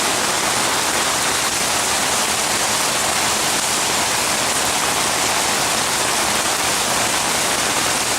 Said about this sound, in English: The water goes down the parking lot,